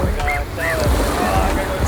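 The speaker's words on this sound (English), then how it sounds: "we are officially on the beach" Waves wash against a Miami beach in a brief burst of surf, with wind buffeting the microphone and people talking close by over the water.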